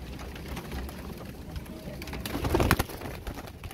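Royal Teddy pigeons coo softly amid low background rustle and some light tapping, the calls faint and intermittent rather than prominent.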